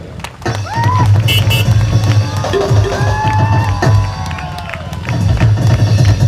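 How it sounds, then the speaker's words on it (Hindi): A crowd at a Christian preaching gathering claps and cheers loudly, with whoops and raised voices riding over dense, continuous clapping that rises and dips. "एक बार ताली हो जाए।"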